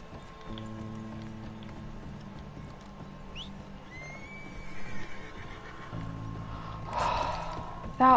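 A horse in the Red Dead Redemption 2 video game whinnies faintly amid quiet outdoor ambience and hoof clip-clops, with a soft steady tone running underneath.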